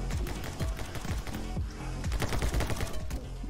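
Rapid gunfire in the action video game My Friend Pedro, dense bursts of sharp shots firing in quick succession at moderate level, with no voices over them.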